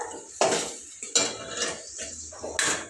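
Mushroom curry is stirred in a pan with a spoon, making loud, close scraping and clanking strokes in uneven bursts against the metal.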